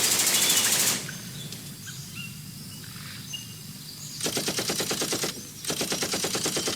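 Machine gun fire in the Vietnam War video game Jungle Patrol: Combat Actions Vietnam, loud rapid bursts at the start and two sustained rattling volleys later, with quieter ambient jungle sound between them.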